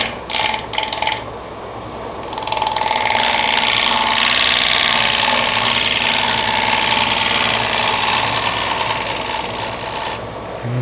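Wood lathe spinning a natural edge walnut bowl with voids as a freshly sharpened gouge cuts, giving a steady loud broadband whir and hiss that starts after a short quieter moment and runs continuously.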